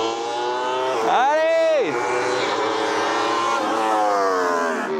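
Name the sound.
single-seater race car engine on track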